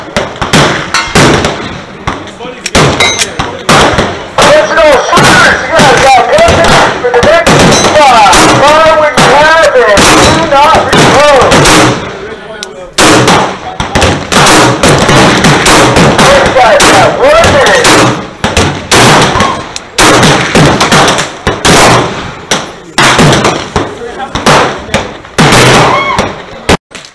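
Repeated gunshots fired at a shooting range, recorded from the shooter's viewpoint: loud, sharp, close reports in rapid bursts with short pauses between strings.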